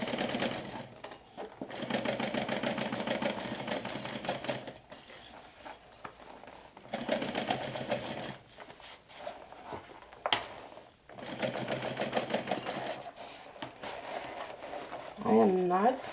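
A sewing machine stitching a backpack seam runs in long, steady mechanical stretches with brief stops between them, and someone talks over the whirring.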